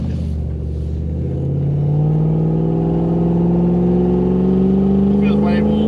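A Toyota Hilux LN106 with a 1UZ V8 and automatic gearbox pulls at full throttle, a close, loud engine drone rising steadily in pitch as it accelerates, heard from inside the cab under a continuous roar.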